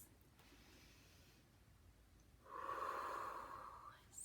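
A person breathing in during a slow breathing exercise: a soft, faint airy hiss, then one longer, louder drawn inhalation near the mic, in a quiet room.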